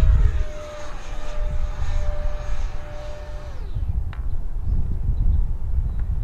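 Marlin 64mm EDF model jet flying overhead, a steady whining ducted-fan roar that holds a high tone, then drops in pitch as it passes and fades into rumbling wind noise outdoors.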